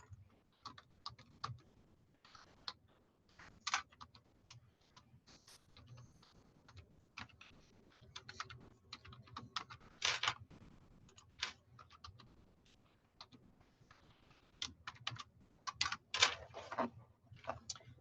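Rapid keystrokes on a computer keyboard as login credentials are entered, in quiet irregular bursts of clicks with short pauses, faint and close, with no talking.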